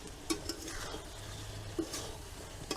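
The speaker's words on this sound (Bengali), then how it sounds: "মশলা থেকে তেল ছেড়ে দিয়েছি এবার আমি এঁচুরটা দিয়ে দেবো" Green jackfruit fries and is stirred in spiced oil in a pan for echor chingri, with a soft steady sizzle and a few crisp clicks of a utensil scraping against the pan.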